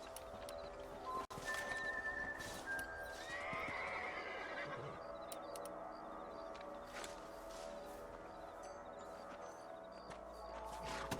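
A horse whinnies over a steady bed of Red Dead Redemption game ambience and galloping hooves, with a sharp click near the start; no talking.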